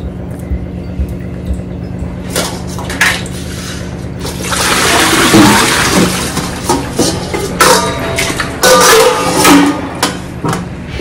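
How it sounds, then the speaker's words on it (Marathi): Mung beans are washed under tap water, with quiet clinks of the vessel at first, then a louder rush of running water and sloshing, rubbing bursts, and clattering handling noises near the end. "नळाच्या पाण्याने 3-4 वेळा धुवायची आणि शेवटी फिल्टरच्या पाण्याने धुतली"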